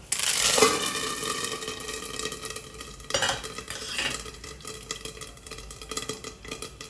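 Curry leaves hit hot oil for a tempering, giving a steady close sizzle and crackle with stirring scrapes, swelling again partway through.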